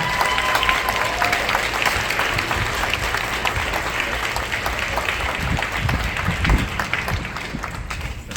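Audience applause for eighth graders standing at a school spring band concert, a dense, steady wash of many hands clapping that fills the room, with faint crowd murmur underneath.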